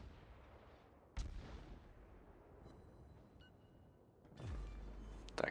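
Warship guns fire in World of Warships, the Katori, with a sudden heavy boom early on and a second rumbling blast later, each trailing off into low rolling noise over a quiet, faint game backdrop.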